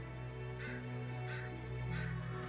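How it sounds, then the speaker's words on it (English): Three harsh crow caws ring out in the Witcher 3 collab event of the game Sword of Convallaria, spaced over a low sustained ominous music drone. "The ominous crows."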